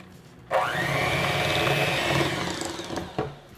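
Electric mixer creaming butter and white granulated sugar for chocolate mint cookies, switching on abruptly into a steady loud whir with a rising motor pitch, running continuously before a brief bump near the end.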